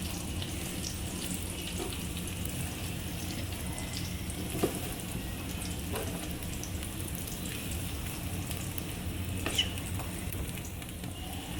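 Continuous sizzling and crackling of a potato kugel frying in a skillet, a steady hiss with a few small clicks, no talking.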